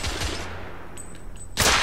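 Gunfire in the video game The Order: 1886, with a burst of shots near the start and another loud blast at the end, and quieter game ambience and faint tones between them.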